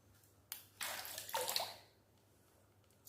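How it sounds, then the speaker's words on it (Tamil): Water poured from a container while setting up a four-foot planted aquarium for guppy fry, a close splashing gush of about a second that tails off into quiet, with no talking. "கொஞ்சோண்டு தண்ணி எடுத்துக்கலாம்."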